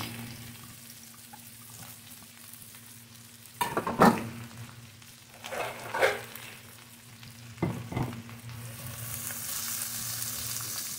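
Two big red onions frying in a pan and being stirred toward caramelizing, a soft steady sizzle broken by several louder scraping stirs, close and without talk.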